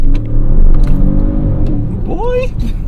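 A 2022 Audi RS7 accelerates with a loud, deep engine rumble that builds and then drops as it shifts gears, heard from inside the cabin with a voice talking over it.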